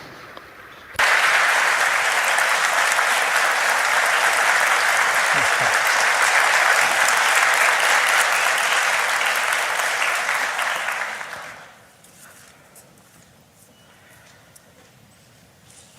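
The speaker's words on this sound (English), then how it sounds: "Please welcome the minister with a big round of applause." A large audience applauds for about ten seconds to welcome India's foreign minister at the Nikkei Forum in Japan, a dense, even roar of clapping that starts abruptly and fades into quiet room tone.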